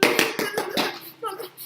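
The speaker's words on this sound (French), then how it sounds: "On applaudit bien fort les enfants." A few sharp hand claps ring out in quick, even succession for children at a mock house-trophy ceremony, then fade as voices and children's chatter take over.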